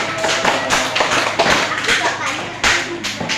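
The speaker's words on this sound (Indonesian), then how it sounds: "Tepuk tangan dulu untuk kalian semuanya." Schoolchildren clap together in a classroom, giving uneven, close, sharp claps in irregular bursts with some thumps and background noise throughout.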